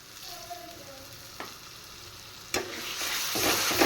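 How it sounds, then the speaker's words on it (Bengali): Yogurt goes into a pan of fried spice masala, the gentle frying hiss swelling into a louder sizzle after a couple of sharp utensil clinks. "মশলা কষানো হয়ে গেছে এবার আমি সামান্য দই দিয়ে দেবো"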